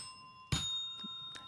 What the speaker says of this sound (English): Ring the new bell.